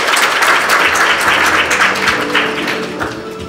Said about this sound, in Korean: 박수를 부탁드리겠습니다